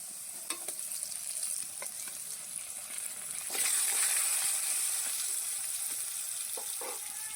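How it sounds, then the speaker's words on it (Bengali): Potatoes fry in oil for a Bengali fish curry, a steady close sizzle that swells louder midway, with occasional light stirring clicks. "আলুগুলোকে বেশ লাল লাল করে ভেজে নেব"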